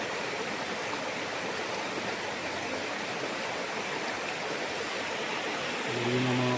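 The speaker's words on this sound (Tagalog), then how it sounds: "Ang agos ng tubig mga kaprops" A clear river running beside a farm lot in Liliw, Laguna flows in a steady, close rushing wash, constant throughout and slightly louder at the very end, with no voices.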